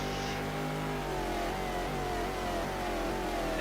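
Judd V10 race car engines in an ALMS 2000 racing video game at Sonoma, a steady high-pitched engine roar with smooth rising revs, loud and continuous without speech.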